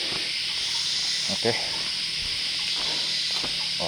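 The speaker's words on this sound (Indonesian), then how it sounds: "Udah ada suara tonggeret gue nih, ngoek dari tadi." Cicadas in a forest keep up a loud, continuous high-pitched buzzing drone, with a voice speaking briefly over it.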